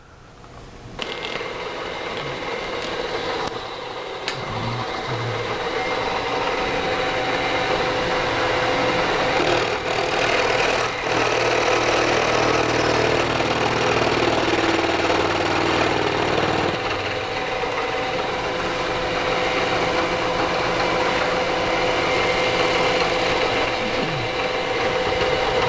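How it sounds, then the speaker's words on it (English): Milling cutter fed down into a metal workpiece on a manual milling machine, a steady loud machining whir and grind that holds continuously with minor shifts in tone, no talking. "All right, I'm going to bring down the cutter."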